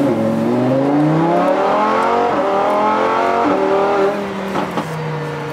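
A car accelerates while being driven, its engine note climbing steadily in pitch and loudness, then easing off near the end as revs drop, heard from close by with no one speaking.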